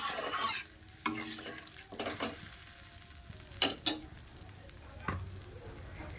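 Fish curry gravy cooking in a pan at home, with soft bubbling and stirring that rises and falls under scattered clinks and short scraping bursts, fairly quiet and close.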